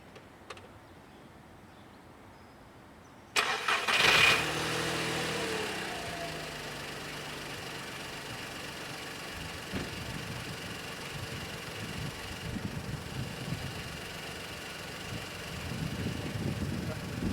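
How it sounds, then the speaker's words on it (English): A Seat Ibiza 6L engine cranks and fires after a few seconds of quiet, flares briefly, then settles into a steady, even idle with a low rumble and light mechanical clatter, heard close by. "let's get the car started"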